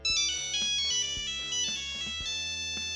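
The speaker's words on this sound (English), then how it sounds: "they had become iconic in the phone space for their iconic ringtone" A Nokia mobile phone ringtone plays its bright, tonal melody alone, a quick run of repeated synthesized notes in steady rhythm, close and loud throughout.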